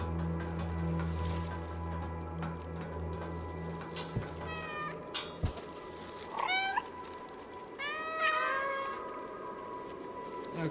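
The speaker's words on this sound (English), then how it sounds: "Okay, that's how I meow." A cat meows several times in the video game Stray, short rising calls over steady ambient rain and hum, closely spaced near the end.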